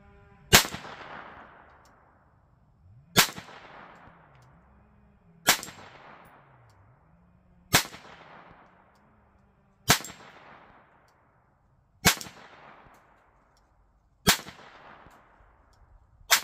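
Browning Buckmark pistol firing at small steel spinner targets 25 yards away at an outdoor range: seven sharp, loud shots spaced about two seconds apart, each with a ringing decay and faint metallic spinner clatter between.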